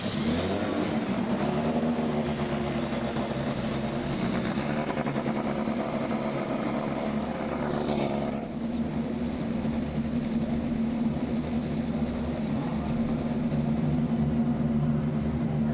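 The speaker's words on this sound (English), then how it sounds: "Drivers, start your engines." Indy NXT race cars at the Road America grand prix start their engines, a sustained loud, dense engine roar with steady droning tones and occasional revving swells, continuous throughout.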